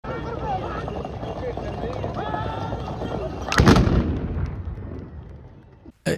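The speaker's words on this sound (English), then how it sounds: "the cannons go off when they get to the end" Cannon blasts and gunfire at a village horse-charge competition in rural Morocco, one loud close boom cracking out over the murmur of an outdoor crowd and the rumble of galloping hooves, followed by a second sharp report near the end.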